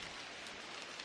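Rain falls in a constant soft hiss with faint scattered patter, with no voices.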